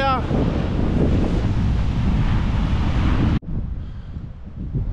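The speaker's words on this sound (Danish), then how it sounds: "så blæser det lidt her" Strong wind buffets the microphone on an open fell during a long hike in the mountains on the Norway–Sweden border, a loud steady roar that cuts out abruptly near the end, leaving quieter gusts.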